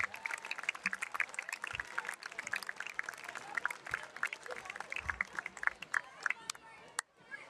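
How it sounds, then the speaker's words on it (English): Outdoor crowd at a high school football game claps for honored athletes, scattered sharp individual claps at moderate distance, with faint chatter mixed in and a brief gap near the end. "Let's give them another round of applause and wish them continued success in all their future endeavors."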